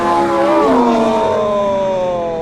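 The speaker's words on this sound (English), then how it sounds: "Wailing Lamborghinis" Lamborghini Aventador SV supercars race side by side on a wet test track, their V12 engines wailing loud and close, pitch sliding through a shift and then holding a high sustained scream.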